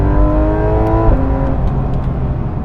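Porsche 911 GT3 RS driven hard on a mountain road, its engine note heard from inside as a loud steady rev that shifts pitch as the gear changes.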